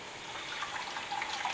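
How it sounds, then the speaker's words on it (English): Water poured into a pot of corn chowder makes a short, steady splashing trickle, close and moderately loud, running without a break for under two seconds. "I want to add just a little bit of water,"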